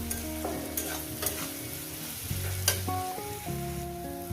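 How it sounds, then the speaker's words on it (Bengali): Onions and shrimp fry in a pan over a medium gas flame, a steady sizzle with sharp stirring scrapes and clinks, under a melodic background tune. "এটা আমি দু থেকে তিন মিনিট একটু ভেজে নেব মিডিয়াম গ্যাসে"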